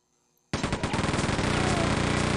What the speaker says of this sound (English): I do have a minigun, or chain gun, I just haven't used it. It seems like it will waste my ammo. Maybe I should try it.